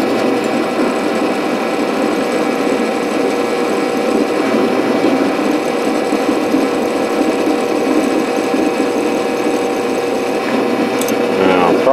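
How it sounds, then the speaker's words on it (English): A steady, continuous mechanical whir of a drill press running at 690 RPM drilling out a broken bolt in a rotor head, with a grinding, rasping edge throughout and a brief metallic squeal near the end. "I've got the belt in the drill press here set for 690 RPM."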